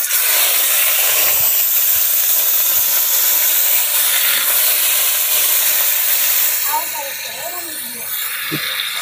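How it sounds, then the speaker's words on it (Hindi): Rohu fish frying on a tawa with turmeric and salt, a loud, continuous sizzle and hiss of hot oil that eases slightly near the end, close up with light stirring and clinks. "तीनों मछली डाल दिए और तीनों मछली को अच्छी तरह से फ्राई करेंगे।"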